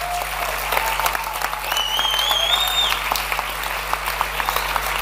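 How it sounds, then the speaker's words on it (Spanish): Sustained audience applause for León at a family gathering, steady dense clapping lasting throughout, with a couple of faint whistled tones rising above it midway. "Fuerte el aplauso a León."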